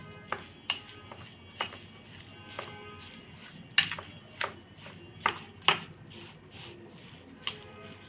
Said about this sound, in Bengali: আমগুলি চিনির সাথে ভালো মিশিয়ে নিব